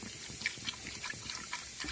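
A glass of water is poured into jaggery in a home kitchen for flax seed laddu, a steady, fairly quiet splashing and trickling that runs unbroken for two seconds with no talk.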